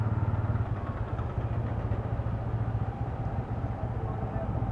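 A Royal Enfield-style Ronin motorcycle engine drones continuously while riding, a steady low throb with wind rush, heard close from a helmet-mounted microphone.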